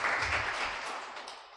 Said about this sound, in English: Another round of applause for that very important discussion.